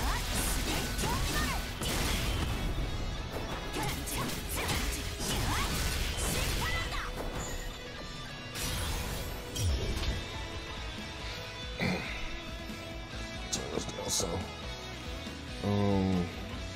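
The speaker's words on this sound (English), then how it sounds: "Repeatedly attack your surroundings with an axe, doused in righteous flames" Axe attacks in the DNF Duel fighting game, a dense stream of loud smashes, crashes and swooshing swings layered over game music and effects, with sharp impacts recurring throughout.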